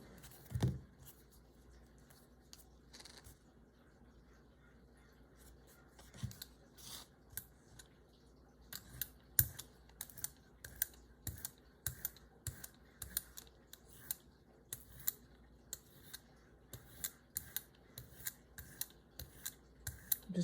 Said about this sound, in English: I'm going to roll on some orange acrylic paint with a brayer